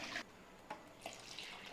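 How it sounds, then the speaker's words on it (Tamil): Water from a rinsed mixer jar is poured into a pot of idli sambar in a home kitchen, giving a few soft splashes and trickles, quiet and close. "இப்போ நான் வந்து அந்த ஜாரை அலசி கொஞ்சம் தண்ணி சேர்த்துக்கிறேன்."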